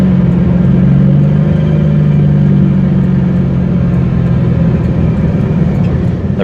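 A 2002 Chevrolet Camaro SS V8 idles steadily with a deep, continuous low rumble, close and fairly loud, holding an even tone throughout with no talking.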